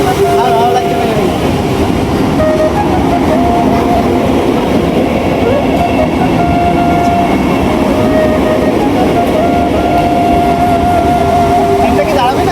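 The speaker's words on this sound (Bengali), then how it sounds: "ট্রেনটা কি দাঁড়াবে না?" A Vande Bharat express tears through a railway station at about 130 km/h, a loud, continuous rushing rumble of wheels and cars with steady tonal whines, and voices faintly present underneath.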